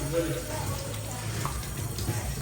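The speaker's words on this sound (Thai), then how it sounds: "ล้างมือก่อน" Running tap water splashes over hands being washed at a sink, a steady close wash of water with a voice briefly audible over it.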